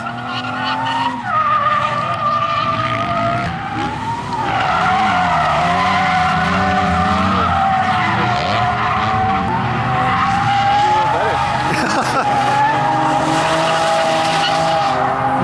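A stock Nissan 350Z drifts, its tires squealing loudly and continuously with wavering pitch as the engine revs rise and fall, close and dominant throughout.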